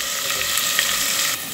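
Garlic paste fries in hot oil in a pan, giving a steady, close, crackling sizzle with bright spattering pops that carries on evenly without any talk.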